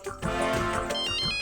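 A mobile phone announcing an incoming call from Maya rings out with a short, bright melodic ringtone that loops a few chiming tones for just over a second, clear and fairly loud.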